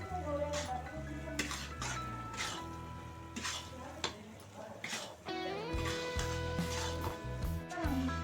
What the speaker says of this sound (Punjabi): ਤੁਸੀਂ ਆਟਾ ਪਾ ਕੇ ਚੰਗੀ ਤਰ੍ਹਾਂ ਇਸ ਨੂੰ ਮਿਕਸ ਕਰ ਦੇਣਾ ਹੈ ਘੁਮਾ ਦੇਣਾ ਹੈ ਖੁਰਚਣੇ ਨਾਲ